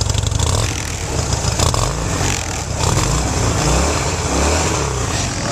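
A Harley-Davidson Wide Glide cruiser's engine runs and revs close by on a stationary sound check, a dense, steady rumbling roar that swells slightly in places, with no talk over it.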